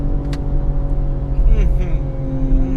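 BMW M240i in sport mode revving through the gears, a steady engine drone inside the cabin that climbs and dips in pitch with each shift, heard under someone talking.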